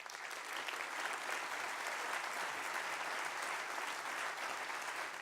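An audience at a business outlook event applauds steadily to welcome California Governor Jerry Brown, giving sustained, even clapping from a large crowd with no breaks.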